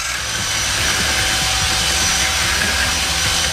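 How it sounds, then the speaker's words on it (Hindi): A large construction mixer whirring steadily as it blends sugar with egg yolks, a loud, dense motor drone with constant churning noise throughout, no voices. "बड़े कंस्ट्रक्शन मिक्सर का उपयोग करके हम शक्कर को अंडे के पीले जर्द के साथ मिला लेंगे।"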